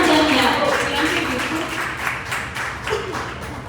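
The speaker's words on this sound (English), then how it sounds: "Can we have a round of applause for these two lovely ladies?" A round of applause for two women performers at a live concert event, broad crowd clapping throughout and slowly thinning over a few seconds, with voices murmuring underneath.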